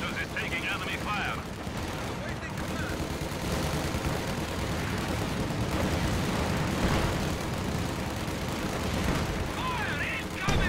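Dense strategy-game battle ambience as enemy gunfire and explosions pound a headquarters, a continuous loud rumble of shots and blasts with a commentator talking over it.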